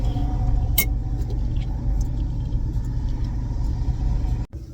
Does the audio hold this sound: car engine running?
yes